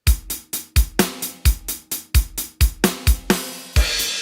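Loud programmed metal drums hit in a driving pattern of punchy kick and snare strikes, ending in a short fill and a crashing cymbal wash.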